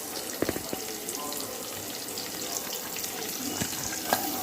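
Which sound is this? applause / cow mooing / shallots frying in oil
shallots frying in oil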